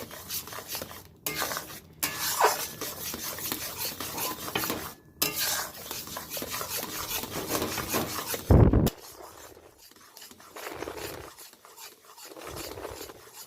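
Papaya pulp with a spoonful of flour stirred in a pan, a continuous close scraping and rubbing of spoon on metal with one sharp knock midway, then softer intermittent stirring.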